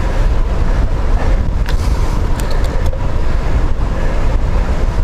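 Strong headwind roars steadily over a microphone during a bike ride, a dense, constant buffeting rumble with no voices.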